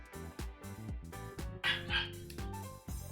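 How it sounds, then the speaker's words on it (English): Dog barking in a video game, a close series of sharp, repeated barks and yips in quick succession with brief whimpering tones between them, loud and alone. "This dog still won't stop barking."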